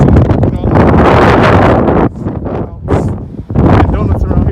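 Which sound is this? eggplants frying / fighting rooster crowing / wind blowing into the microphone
wind blowing into the microphone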